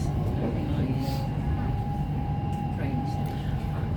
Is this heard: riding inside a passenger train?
yes